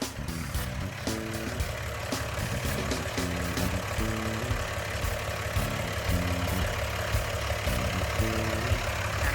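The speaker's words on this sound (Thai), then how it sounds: "ลูกค้าลองฟังเสียงนะครับเสียงเครื่องเขาก็ ทำงานแน่นๆดีปกติมากๆนะครับ" A Komatsu WA200-1 wheel loader's heavy diesel engine runs at a steady idle nearby, low rumbling with a rhythmic mechanical knock and clatter.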